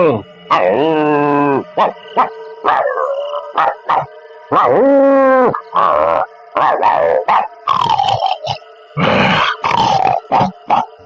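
A voice imitates a dog barking in a Hindi ghost story, with a series of loud, separate bark-like yelps, growls and drawn-out howling cries spread across about eleven seconds.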